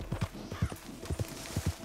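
Horse hooves clip-clopping in a quick, steady galloping rhythm as the rider clears fences in Red Dead Redemption 2, close and fairly loud with no talk over it.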